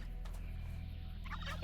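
Turkey gobbling in a modded Minecraft homestead world, a faint gobble near the end of the clip over a steady low game ambience with soft background tones.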